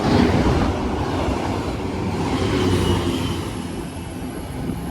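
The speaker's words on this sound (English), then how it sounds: "we have a freight train going to the depot access line, Network Rail" A freight train rumbles past close by at Watford Junction, wheels clattering and faintly squealing on the rails, the noise slowly easing as it rolls on.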